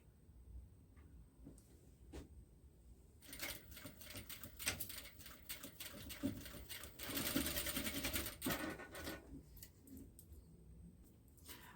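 Sewing machine stitching a zipper and two fabric layers into a seam for a luggage organizer, with bursts of rapid mechanical running that build louder in the middle, then ease off with quieter handling noises around them.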